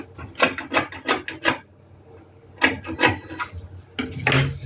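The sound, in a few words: cutting fabric sleeve pattern with seam allowance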